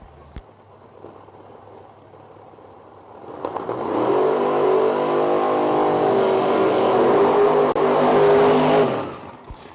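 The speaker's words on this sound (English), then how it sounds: "You hear that? Twin F3 Pro Charge hot rods. That right there is music to your ears." Drag race hot rods with twin F3 ProCharger supercharged engines roar down the track, a loud sustained engine howl that builds in quickly, holds steadily for several seconds, then cuts off abruptly.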